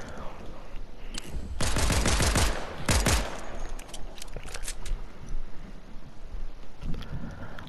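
A pistol fires in the Fortnite video game: a cluster of sharp rapid shots, then another short burst, loud and close, followed by scattered fainter pops over background noise.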